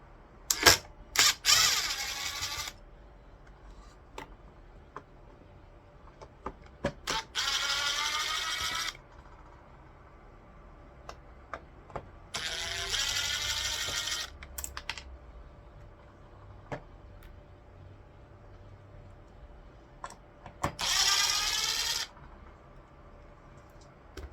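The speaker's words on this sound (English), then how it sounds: "I'm going to take these 4 screws out just because I'm interested." Four screws are backed out of a clock movement on a workbench: a run of small, dry metallic clicks and ticks, broken by several scratchy, grinding bursts of a screwdriver turning, close and fairly quiet, with no voices.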